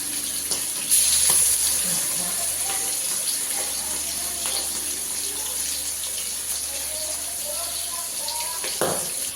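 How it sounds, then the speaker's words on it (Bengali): Rohu fish pieces fry in a kadai with a bright, steady hiss of hot oil close by, broken by a few louder crackles and bumps. "এখন আমি মাছ তো ভাজা হচ্ছে আমার"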